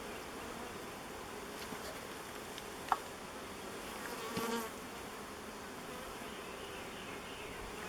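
Irritable honey bees hum softly and steadily at an open hive as smoke drifts across the top frames while a colony is split, with a brief louder buzz passing close midway.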